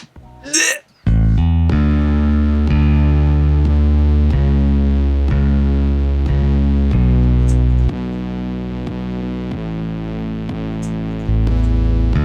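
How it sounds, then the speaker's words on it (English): A brief vocal burst, then heavy sustained bass tones that sound gritty and distorted, loud and droning, shifting pitch every second or so. "having a pitched up version of that same bass, distorted more and really wide"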